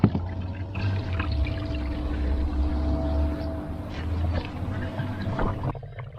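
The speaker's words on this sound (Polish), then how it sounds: "Leje się woda," Water pours and splashes steadily over the body of an Audi A4 B5 to find a leak, with a low rumbling hum underneath and a few drips as the flow tapers off.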